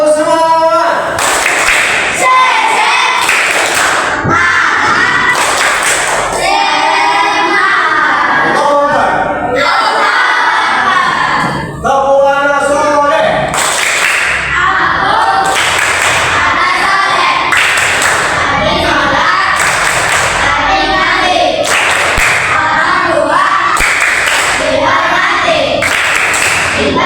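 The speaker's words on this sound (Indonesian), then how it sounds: "Tepuk semangat!" A classroom of students performs the rhythmic 'tepuk semangat' spirit clap in a school lesson, with loud patterned bursts of hand clapping repeating steadily throughout, mixed with voices chanting along.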